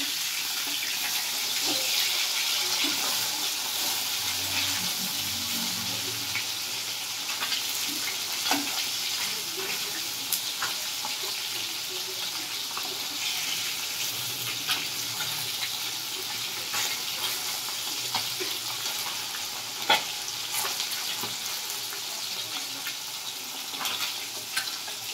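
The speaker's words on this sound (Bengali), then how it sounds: "উল্টে পাল্টে মাছগুলো আমি ভেজে নিচ্ছি।" Bata fish frying in hot oil as the pieces are turned, a continuous hissing sizzle with scattered pops and a few spatula knocks, close by and fairly even in loudness.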